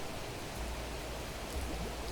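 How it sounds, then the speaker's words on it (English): Underground rain in Planet Crafter falls as a soft, steady hiss of droplets with a faint low rumble. It stays quiet and constant throughout, with no voices. "Crazy, it's raining underground."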